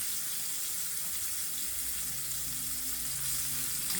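Canned broth trickles slowly into a pot of black beans with a continuous hissing pour that mixes with faint sizzling, heard alone at close range.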